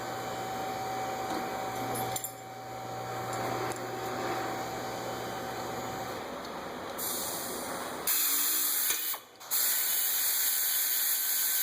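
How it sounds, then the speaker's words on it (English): Pneumatic air tools run on the rear brakes of a 2009 Dodge Nitro during a pad replacement, giving a steady mechanical whir and hiss with a sharp change in tone near the end, no talking. "So got some air tools I'll be using to make the job a little faster."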